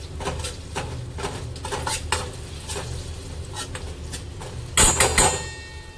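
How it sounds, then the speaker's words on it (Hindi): Dhokla batter mixed with sugar and salt in a bowl, a series of close clinking and scraping strokes of a utensil against the bowl at an uneven rhythm, ending in a louder burst of clatter, with no talking. "इसको अच्छे से मिक्स कर देंगे"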